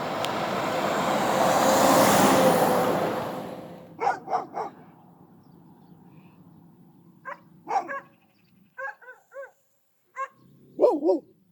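Several dogs bark along a roadside in Greece: a vehicle first whooshes past loudly, then sharp barks come in scattered bursts of two or three, moderately near, with no talk.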